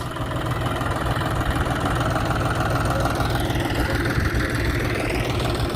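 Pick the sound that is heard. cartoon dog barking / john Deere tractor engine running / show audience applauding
john Deere tractor engine running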